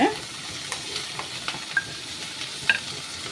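Drumstick leaves sautéing in oil with garlic in a pan, a continuous soft sizzle and hiss close by, broken by a few light scraping stirs.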